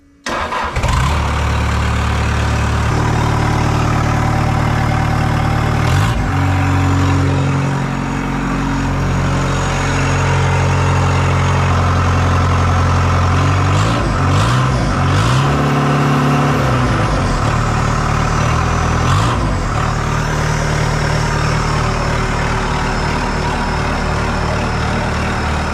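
A small diesel engine on a Chinese mini skid steer cranks and catches with starting fluid, then idles loudly and steadily up close while warming up, with a few brief revs and clunks along the way.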